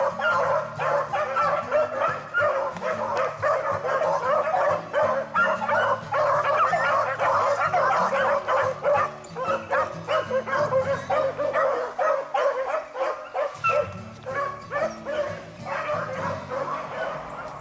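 Hunting dogs on a rabbit chase keep up a dense, continuous chorus of yips, barks and whimpers. Many overlapping calls ring out nonstop, with a short lull near the end before the yelping resumes.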